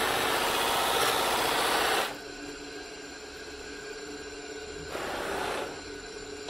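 A bench polisher runs loudly while a bone knife handle is pressed against the buffing wheel, giving a steady whirring rasp that drops into a quieter hum and then swells again as contact resumes.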